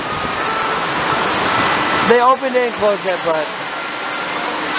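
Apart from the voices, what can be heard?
heavy pouring rain at amusement park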